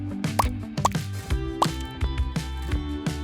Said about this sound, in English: Then add some drops of food coloring.